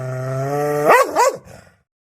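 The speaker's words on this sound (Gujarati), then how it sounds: "કૂતરો કેવું બોલે?" A single dog gives a drawn-out, steady growling whine that breaks into two quick barks, loud and close, then trails off into silence.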